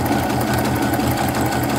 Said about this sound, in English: It's a lot of bulk to be stitching through.